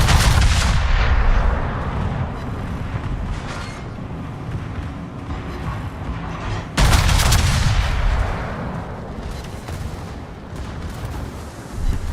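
Heavy naval guns from warships in World of Warships boom in a dense, continuous barrage, with one especially loud salvo about halfway through and rumbling rolling echoes.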